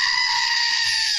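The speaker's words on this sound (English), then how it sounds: "Become the owner of your very own screaming goat." A screaming goat in a box desktop toy lets out one loud, sustained, shrill bleating scream at close range, with no voices.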